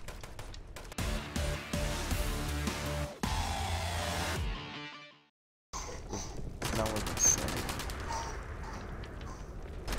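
Gunfire crackles in the online video game Fallout 76 Nuclear Winter as dense bursts and rapid shots, dropping out briefly into near silence before more sharp cracks return, with a player's voice at times over the action.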